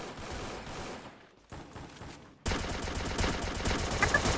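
Gunfire in the video game Free Fire, a dense rapid burst of automatic shots that cuts out briefly and then returns louder and continuous, close and sharp.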